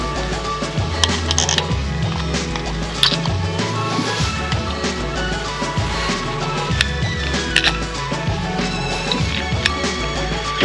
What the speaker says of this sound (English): So you undo 4 bolts in the top, and then there's 2 other ones for the breather.